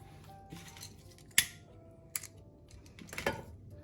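Scissors snip through macrame cord in a few quick, crisp cuts, one sharp close snip standing out among softer clicks and rustles of handling in a quiet room.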